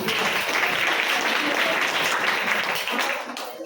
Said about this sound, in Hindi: चलिए जबरदस्त ताली बजाइए